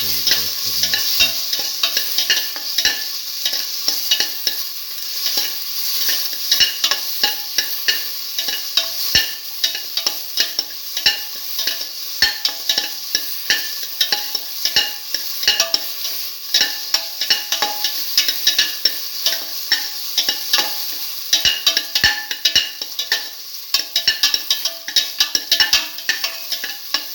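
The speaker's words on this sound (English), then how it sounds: "Keep on sauteing." A mung bean and salted tomato mixture sautéing in a pan, with a loud, continuous sizzle running throughout and frequent scraping stirs of a utensil against the pan.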